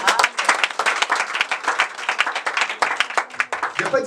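Steady, dense applause from a crowd at a church seminar acclaiming the Lord, loud and close throughout with no break.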